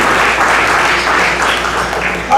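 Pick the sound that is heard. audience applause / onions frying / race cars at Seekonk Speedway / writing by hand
audience applause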